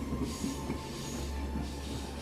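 A train starts moving with a low, continuous rumble and faint rhythmic wheel clatter, steady and moderately quiet, used as a sound effect in a horror audio story.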